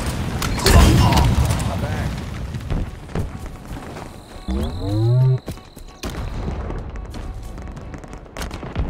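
A grenade explodes in a Halo Infinite capture-the-flag match, a loud boom early on followed by chaotic in-game combat noise, mechanical clatter and a brief announcer-style voice later in the stretch.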